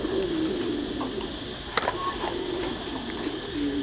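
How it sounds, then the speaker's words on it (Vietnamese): Tam Thai meat pigeons on a farm give low, rolling coos through steady background noise, with a brief sharp knock partway through. "Đây là giống chim bồ câu Tam Thái siêu thịt."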